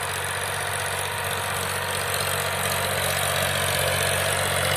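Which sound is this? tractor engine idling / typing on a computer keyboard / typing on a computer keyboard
tractor engine idling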